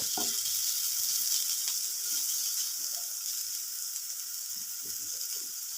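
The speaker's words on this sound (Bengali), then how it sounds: "দিয়ে আবারও ঢাকা দিয়ে সবজিগুলো খুব ভালো করে ভেজে নিচ্ছি" Vegetables and beans frying in a covered pan, a continuous bright sizzle with soft scattered crackles and faint stirring clicks underneath, steady and close.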